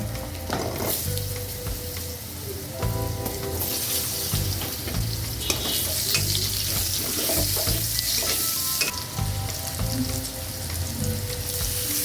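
Potatoes frying in a pan for a home-cooked Bengali fish curry give off a steady, loud sizzle and crackle for the whole stretch, with scattered utensil scrapes and clinks and no talking.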